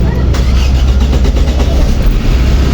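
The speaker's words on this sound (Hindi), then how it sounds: "इंजन स्टार्ट हो चुका है इस टाइम इसका।" A petrol-running Suzuki Baleno engine idles loud and close after starting, a steady low rumble throughout.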